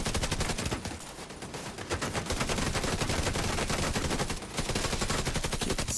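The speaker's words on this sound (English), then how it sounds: "Stop shooting me." Rapid machine-gun fire rattles nonstop during a video game tank battle, loud and dense, with a short dip in the bursts before the shooting resumes.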